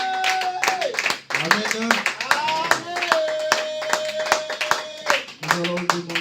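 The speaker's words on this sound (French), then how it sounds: "Est-ce que quelqu'un peut acclamer son Dieu?" Church congregation clapping in rhythm while a voice calls out amid music, sharp hand claps dense and close over steady background tones, with a few spoken words.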